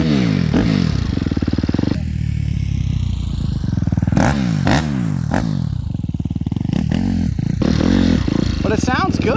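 A Suzuki RMZ250 dirt bike engine revving hard close by, its pitch rising and falling in repeated throttle blips with mechanical clatter between.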